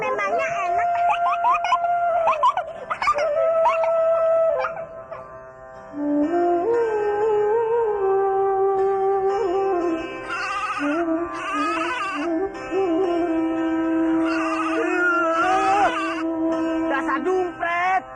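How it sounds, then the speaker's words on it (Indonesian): A baby goat bleats in long wavering cries, loud and close, repeated through the stretch with strained, voice-like tones and only brief pauses between calls. "Dasar dumpret. Kambing siapa itu?"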